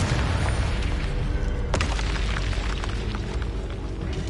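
A Confringo spell explosion in the Hogwarts Legacy video game, a sharp blast followed by a booming, rumbling roar that fades slowly, heard alone without talk.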